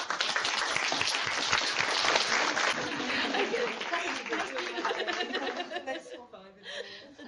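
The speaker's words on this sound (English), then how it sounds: "would you all like to join me in a big clap for Anna?" An audience applauds a guest children's author with a loud, dense burst of clapping that holds steady for several seconds, then fades out, with some chuckles mixed in.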